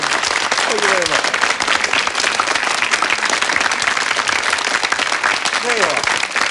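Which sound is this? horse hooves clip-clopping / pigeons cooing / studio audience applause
studio audience applause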